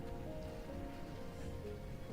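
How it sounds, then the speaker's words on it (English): A steady wash of rain ambience with soft low rumbling underneath plays continuously at low volume as a night-time background layer, with no speech. "What I am gonna add back in is the rain plus thunder"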